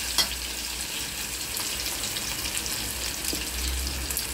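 Chopped onions for chana masala fry steadily in a hot pan, a soft continuous sizzle with faint crackles and a brief clink near the start, no talking.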